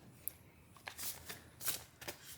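A slightly stiff, chunky Transient Light tarot card deck with a slippery finish is shuffled by hand, giving several quiet riffling bursts close up in a hushed room.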